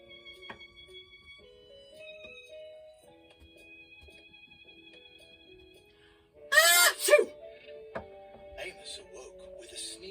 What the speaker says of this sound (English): Amos awoke with a sneeze.